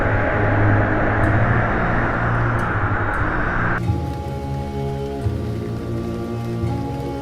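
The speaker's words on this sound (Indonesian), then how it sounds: "Hujan darah, ini benar-benar pertanda buruk." Blood rain pours in an animated film, a dense steady hiss of heavy rainfall that stays loud throughout and then abruptly turns thinner and more open with low rumbling underneath.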